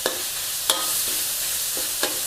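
Ground pork for a basil stir-fry sizzles over high heat in a continuous close hiss, with a few sharp spatula scrapes against the pan.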